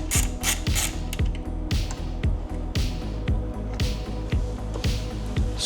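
Bonamici rearset adjustment bolt being screwed onto a Ducati Panigale V2: a close, steady run of rhythmic ratcheting clicks with light metallic rubbing, repeated evenly throughout with no talking.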